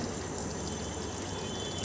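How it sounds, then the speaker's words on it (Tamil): Water poured into chicken gravy made with onion and tomato, a faint steady pouring and trickling splash heard alone and close, without talking. "இப்போ கொஞ்சம் தண்ணி ஊற்றிடலாம்"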